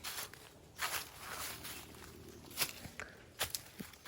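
Slow footsteps of a person walking, a handful of soft, irregular steps close by, crunching over faint background noise with no talking.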